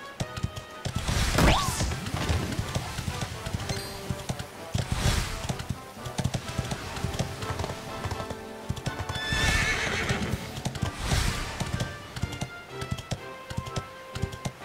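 Rhythmic hoofbeats of a horse in Dragon Quest XI clip-clop steadily with an occasional whinny, crisp and synthetic-sounding, over light background music.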